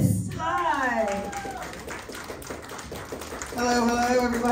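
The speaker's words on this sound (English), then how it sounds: "Ladies and gentlemen, give a round of applause to Chris." An audience at a comedy spot show claps for a comedian, a run of quick close claps that fade mid-clip before talk returns, with voices heard over the start and end.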